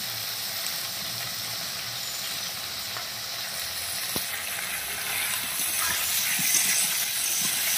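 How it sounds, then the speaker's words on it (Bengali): Meat and potatoes frying in oil in a pan, giving a steady, fairly loud sizzle and hiss that swells slightly toward the end, with a few faint utensil taps and no talking. "তো দেখো মাংসটার থেকে কি সুন্দর করে তেল ছাড়ছে। ভালো করে সেটাকে আমি কষিয়ে নেব।"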